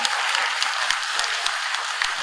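An audience claps steadily through a ceremony honouring war veterans in Azerbaijan, a dense, loud wash of applause with sharper individual claps standing out, and no voices on top.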